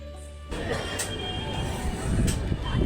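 A passenger train on an overnight journey from Kolkata toward Mathura rumbles along the rails, heard from inside the carriage as a steady close roar that swells suddenly and grows louder, with faint metallic squeals.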